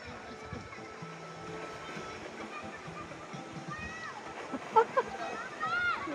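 River water sloshing and splashing around a raft, a continuous close wash of water with a few sharper splashes near the end, while people talk over it.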